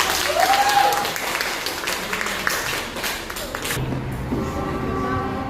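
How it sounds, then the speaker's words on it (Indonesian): Students in a classroom give a short round of applause after a group presentation, dense clapping that fades out as a voice and a few stray sounds take over. "beri tepuk tangan dulu"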